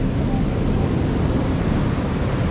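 Rough ocean surf driven by Hurricane Nicole's storm surge roars as a dense, continuous wash of breaking waves mixed with heavy wind buffeting the microphone.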